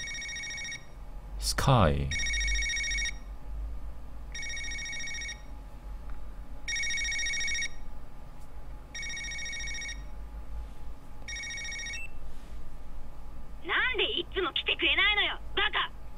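A phone rings in Yakuza Kiwami with a bright electronic trill repeating in regular bursts, fairly loud and near, while someone talks over it and a thump lands early on.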